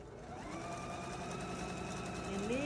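A sewing machine stitches the inner border onto an octagon quilt in one continuous, steady run, with a close, even motor hum and rapid needle rhythm throughout.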